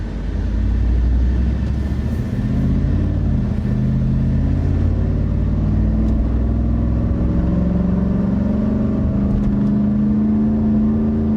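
A Roush Ford F-150 Lightning truck, upgraded with a supercharger and running narrow front tires, accelerates hard with a loud, sustained rising engine and blower whine that climbs steadily throughout.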